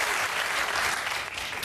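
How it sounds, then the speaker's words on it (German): A studio audience at the Harald Schmidt Show breaks into steady, loud applause and cheering, a dense wash of clapping that holds for the short span without speech. "Weißt du, wer jetzt johlt?"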